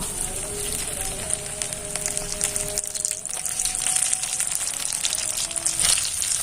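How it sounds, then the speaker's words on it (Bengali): Flour and potato rolls frying in hot oil, a continuous bubbling sizzle like light rain with some faint tonal hums in the background and no voices. "এদিকে আমি তেলটা কিন্তু গরম বসিয়ে দিয়েছি আর এই যে রোলগুলো এবার আমি তেলের মধ্যে দিয়ে দেব"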